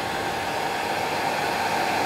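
A hair dryer blows steadily on fly-tying thread and hackle fibres while a soft hackle wet fly is being tied, a constant loud broadband whoosh with no voices.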